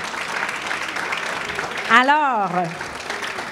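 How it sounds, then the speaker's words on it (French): Gala awards audience applauding business nominees, a continuous wash of clapping with a voice briefly speaking over it partway through. "Oui, on les applaudit."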